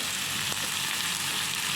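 Tomatoes and salt fry in a hot tempering for palak paneer, a dense, even sizzle heard close up and alone for under two seconds.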